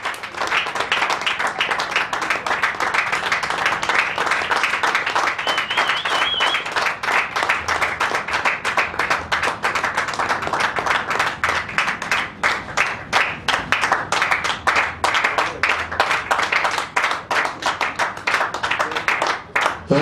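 Sustained audience applause greets a musician at a live music show, dense clapping filling the room steadily for the whole stretch with a brief voice heard faintly partway through.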